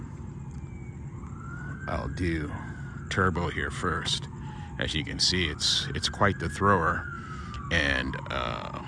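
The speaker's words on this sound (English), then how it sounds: "You have to excuse the sirens." Wailing police sirens rise and fall outdoors at night in Orange County, sounding moderately distant and sweeping up and down throughout while someone talks over them.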